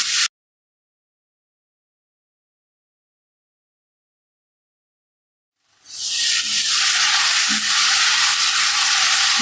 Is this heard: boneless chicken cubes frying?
yes